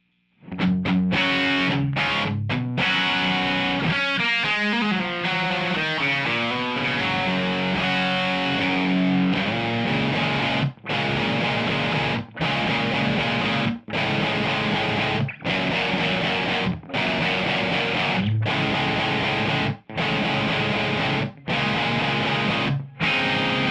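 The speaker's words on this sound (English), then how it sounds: "now I'm going to turn on the pedal and let's see what we got" Electric guitar through a Maxon DS-830 Distortion Master pedal, dense saturated chords played loud and continuous, with rhythmic strummed stabs and short gaps in the second half.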